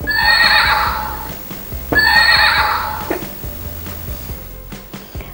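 Cartoon-style zebra call used as a sound effect in a children's animal-guessing game at school, heard as two loud horse-like whinnies in close succession, each about a second and a half long, followed by quieter trailing noise.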